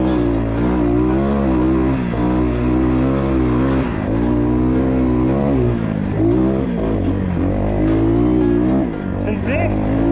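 A Walmart 250 cc dirt bike engine revs hard and steadily throughout while ridden, loud and close, rising and falling in pitch as the rider pops a small wheelie.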